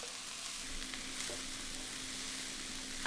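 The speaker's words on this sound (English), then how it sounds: "Now add in 2 minced cloves of garlic, a teaspoon of chilli powder, 2 teaspoons of smoked paprika" Minced garlic, chilli powder, smoked paprika, salt, pepper and tomato puree sizzle softly in a pan while being stirred, a steady quiet hiss with faint scraping touches.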